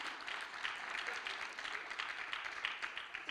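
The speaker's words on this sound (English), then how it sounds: "Round of applause, please." A dinner audience at a law students' awards gala applauds, a faint, steady patter of many hands clapping at a distance that holds evenly throughout.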